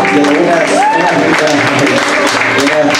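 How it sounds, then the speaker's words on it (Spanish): Concert crowd applauding the band at a show in Mágico Vesique, loud and continuous clapping under a voice and lingering tonal sounds. "pido un fuerte aplauso, por favor, para devolvernos la energía que estamos compartiendo"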